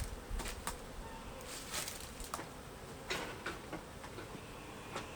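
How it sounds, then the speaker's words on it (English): A single honeybee buzzes close around a beekeeper at a hive, its drone rising and fading as it circles, with sharp ticking clicks scattered throughout. "I have one bee really follow me around"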